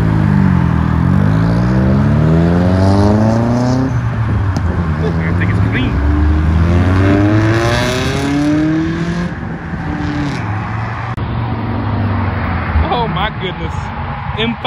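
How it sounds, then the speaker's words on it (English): Turbocharged JDM street cars rev loudly nearby, their engine notes rising and falling in repeated sweeps, with a turbo blow-off valve venting amid the roar and crowd noise outside. "Oh, I hear that blow off valve."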